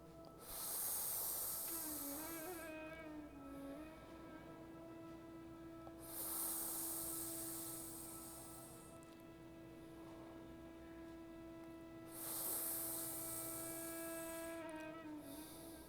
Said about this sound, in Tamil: வாய் வழியே மூச்சை உள்ளழுங்க